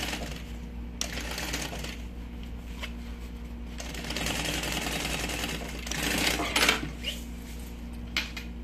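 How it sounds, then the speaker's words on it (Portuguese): A sewing machine topstitches a double cosmetic bag in steady, moderately loud bursts of rapid mechanical stitching, interrupted by brief clicks and handling sounds between runs. "Aqui a gente vai passar um pesponto de cada lado."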